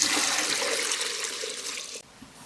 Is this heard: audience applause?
no